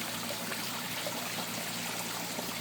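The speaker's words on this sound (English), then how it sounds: "It's going to be spreading water up through in these pockets" Water flowing continuously through splash points of a new food garden's irrigation line, a dense, even rushing hiss with no breaks, moderately close and without voices.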